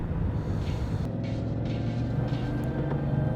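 2018 Honda Goldwing motorcycle cruising and changing gears, a steady low engine drone with rushing wind noise and brief shifts in tone, continuous and fairly loud from the rider's position.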